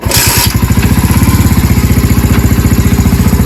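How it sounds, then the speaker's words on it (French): A derestricted 50cc Mash Fifty motorcycle engine with an opened-up air box runs steadily nearby, loud and buzzing with a rapid, even pulsing throb. "elle va faire un bruit beaucoup plus agressif grâce à la boîte à air qu'on a débridée"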